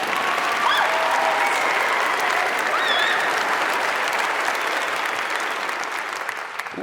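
Sustained, dense audience applause at a live comedy debate show, loud and even throughout with faint whoops or whistles mixed in, tapering only slightly at the end.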